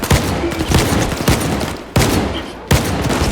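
Video game gunfire comparing Saiga and Dnipro guns: loud, close bursts of rapid shots, with several sharp separate blasts breaking the run.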